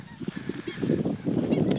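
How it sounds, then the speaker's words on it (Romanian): Geese honking in Letea village in the Danube Delta, a dense run of repeated loud calls that builds and overlaps through the clip, with no talk. "Există o multitudine de păsări, de la mici la mari,"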